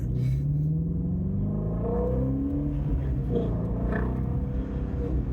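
A car with a flat plane crank Voodoo V8 engine revs up close, its rumble rising and falling in pitch over a few seconds with no voices.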